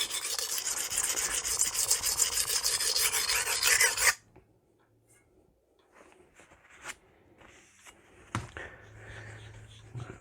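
An 8-inch Magnacut chef's knife is stroked over a coarse Norton Crystolon stone, giving a dense, continuous gritty rasp up close for about four seconds, then quiet handling clatter and light scraping.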